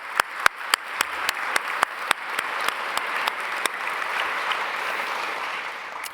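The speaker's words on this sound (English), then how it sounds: "Please give her an applause." An audience at a transatlantic partnership panel event breaks into applause, opening with a few sharp, distinct claps that quickly blend into steady, sustained clapping.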